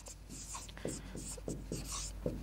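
Marker or chalk writing an example sentence on a board during an English grammar lesson, faint scratchy strokes in short bursts, with speech in the background.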